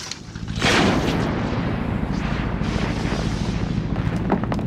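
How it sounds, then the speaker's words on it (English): An anti-personnel landmine detonates under a heavy wind-rolled device, a sudden loud boom followed by a sustained rumbling roar that fills the space without any voices. "When it rolls over an anti-personnel landmine, it's heavy enough to detonate the explosive."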